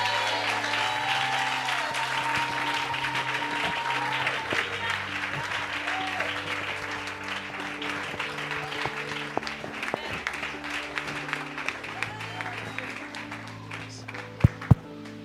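A church congregation applauds in praise of the Lord at a service, with sustained dense clapping mixed with singing and voices, loud and steady throughout before a few final claps.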